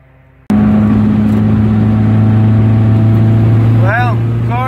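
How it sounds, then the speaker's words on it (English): Turbocharged Hyundai Tiburon engine catches and settles into a steady, loud idle with a deep even hum close by, a brief faint whine rising near the end. "Well, car's running."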